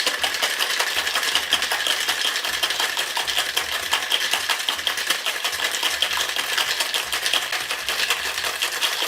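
Ice and espresso martini ingredients rattle hard inside a cocktail shaker, a steady, dense, fast shaking clatter that continues without pause, loud and close, with no talking.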